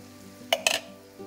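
Garlic, ginger and green chili paste dropped into a frying pan, two quick bright sizzling bursts over a steady low hum, close and moderately loud.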